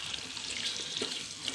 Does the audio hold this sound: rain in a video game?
no